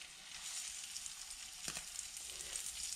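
Floured sea trout fish burger, dusted lightly in plain flour, frying in a pan with butter: a steady broadband sizzle runs throughout at close range, with a brief louder crackle burst partway through and no talking.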